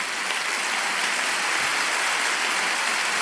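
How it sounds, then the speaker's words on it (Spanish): A congregation applauding at a Spanish-language church service, a dense, steady wash of many hands clapping that fills the whole stretch without any voices on top. "Dale un aplauso grande a Dios"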